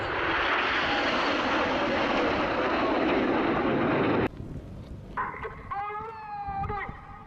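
A Hurricane aircraft engine roars loudly and continuously as the plane passes, then cuts off abruptly and leaves quieter background sound with a faint high-pitched cry.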